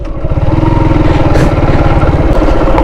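A motorcycle engine runs close by with a loud, steady, throbbing idle that holds even throughout, with no other voices.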